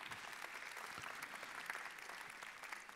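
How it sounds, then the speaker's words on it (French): An audience at a French mayors' congress forum applauds, a steady, fairly faint and distant wash of clapping with no speech over it. "je vous demande de bien vouloir saluer par vos applaudissements nourris"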